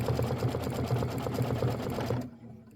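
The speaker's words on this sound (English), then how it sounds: "We're going to stitch the head and back placement line." A sewing machine stitches a head and back placement line on a Kimberbell flamingo quilt block, running at a steady, close hum for about two seconds before stopping abruptly.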